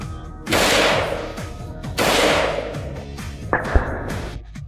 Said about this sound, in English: The Barrett 50 calories fired a blue-tipped armor-piercing bullet.